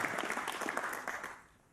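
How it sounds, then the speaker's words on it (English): Audience applause at a professional snooker match, Judd Trump v Zhao Xintong at the 2018 English Open, a steady burst of many hands clapping that fades away toward the end. "Applause for that good positional shot."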